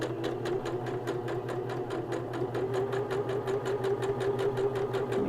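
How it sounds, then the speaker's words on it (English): Close, steady whir of a sewing machine stitching cloth napkins, with a fast, even rhythmic needle pulse running throughout and no speech. "we're going to come back and just stitch right over that stitching just a little bit to lock them in place"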